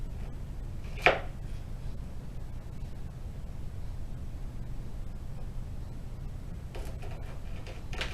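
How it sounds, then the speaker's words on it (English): A sharp knife cuts through crunchy pretzel cookie dough on a cutting block, giving one crisp, close chop early on and a fainter cut near the end over steady room hiss. "with a knife, I have a cutting block here. You want to cut them into the cookies a little less than ½ an inch"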